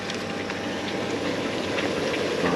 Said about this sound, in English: and water filling up